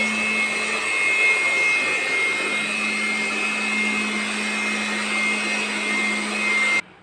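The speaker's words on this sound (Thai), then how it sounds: "เสร็จแล้วเราก็มาเป่าให้แห้งนะครับโดยใช้ตัวเป่าลมตัวนี้" An electric air blower dries a freshly washed home air conditioner coil, a steady loud whooshing roar with a constant whine running unbroken for about seven seconds before cutting off abruptly.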